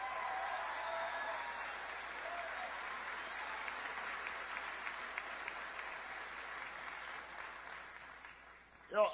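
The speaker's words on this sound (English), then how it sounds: "Give her a big round of applause." A large political rally crowd in New Hampshire applauds and cheers steadily on election night, a dense, loud wash of clapping that fades slightly near the end before a brief burst.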